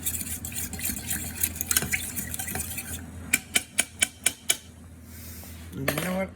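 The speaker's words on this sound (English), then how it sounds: "So I'm just gonna stir it" A metal spoon stirs an oil infusion for a pain salve in a pot, scraping busily, then about six crisp, evenly spaced taps on the rim, then a brief watery splash at the end.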